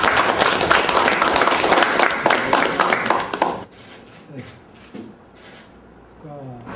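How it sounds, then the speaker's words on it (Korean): Loud, dense audience clapping at a farmers' gathering in Korea, continuous for about three and a half seconds before cutting off, followed by quieter scattered sounds and brief talk. "박수 한번 크게 보내요."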